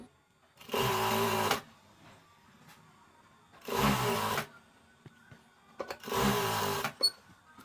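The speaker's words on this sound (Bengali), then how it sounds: "এই কাপড়টা এখানে বসিয়ে আমরা একটু করে পাইপিং করে দিচ্ছি" A sewing machine stitches piping onto sleeve fabric in three loud, steady bursts of motor whirring, each about a second long, separated by quieter pauses with small handling sounds.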